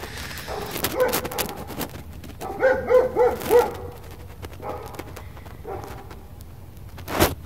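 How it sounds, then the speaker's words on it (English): Several dogs bark loudly in bursts, a cluster of barks in the middle and more scattered ones later, heard near a Jeep Cherokee being worked on. "You can hear lots of loud fucking dogs."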